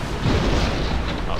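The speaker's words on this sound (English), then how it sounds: "One more chain shot and they should have white flags pop." Cannon fire from chain shot in the pirate game Sid Meier's Pirates!, a dense continuous rumble of low booms and bursts sustained across the moment, loud and mixed with game noise.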